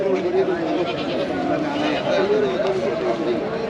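Sheep bleat over and over in a crowded weekly Friday sheep market at Nelamangala near Bengaluru. The wavering calls come close and loud and keep going, mixed with people talking nearby.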